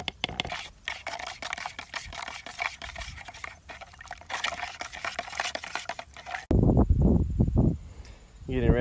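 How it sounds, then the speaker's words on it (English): Rust remover concentrate for cleaning concrete is added to 8 ounces of water in a cup, with clinking, scraping and stirring sounds that come in irregular bursts, then a voice speaks near the end. "I've got my 8 ounces of water ready to add in the concentrate"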